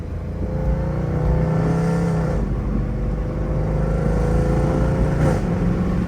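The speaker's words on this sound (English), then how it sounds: "Like that was a hard, like weird downshift. It didn't rev match." A Mercedes C63 AMG fitted with aftermarket headers downshifts without rev matching, its engine note dropping and rising with a loud, raspy rumble heard from close inside the car, revs sweeping across several seconds.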